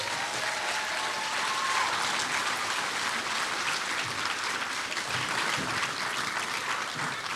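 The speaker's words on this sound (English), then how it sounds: "how about another round of applause for those third graders?" An audience applauds third graders at a Rocky Heights elementary school show, the steady clapping of many hands filling the hall at an even level throughout with no talk over it.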